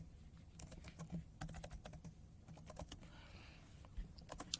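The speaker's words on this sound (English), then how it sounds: "I'm going to type in the word offset gap again." Rapid clacking of a computer keyboard while a command is entered in AutoCAD, quiet, close and irregular keystrokes in quick bursts with no speech.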